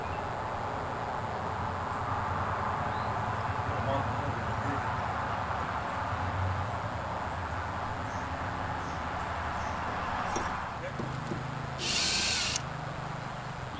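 A power drill with a 25/64 bit whirs steadily for the whole stretch, a sustained high buzzing that hardly varies, with a brief sharper whine near the end.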